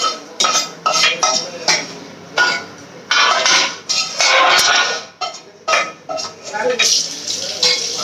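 A metal kadai is set down and handled on the stove while cooking paneer, with close clanks, scrapes and clinks of utensils in quick irregular bursts, a low background sizzle, and some faint voice.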